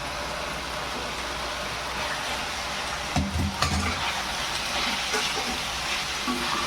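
Pasta being stirred into cooked masala in a pan, a steady sizzle with scraping spoon strokes and a few clattering knocks near the middle, no talking.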